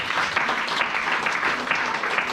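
A church congregation applauds, with dense, continuous clapping from many hands filling the room at even loudness, and voices faintly mixed in.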